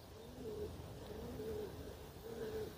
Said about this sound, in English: there's a lot of pigeons up there